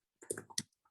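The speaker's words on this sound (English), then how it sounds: "I'm going to click the text box, highlight it," A computer mouse clicks on a text box in a design program, giving a few quick, close clicks in about half a second, followed by one faint click.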